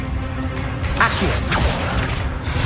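An Accio spell cast in Hogwarts Legacy: a sudden swooshing burst with a sweeping pitch glide, followed by a low thump and a lingering airy tail over a background rumble.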